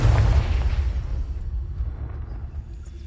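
Confringo and Bombarda spell explosions in a Hogwarts video game: a loud booming blast opens, then a long rolling rumble fades away under scattered lighter pops, with no voices.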